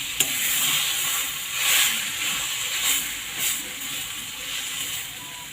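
Mango pieces are sautéed with jaggery in a pan for gulamba. A continuous close sizzle and hiss carries a few soft swells and a sharp click near the start, with no talking.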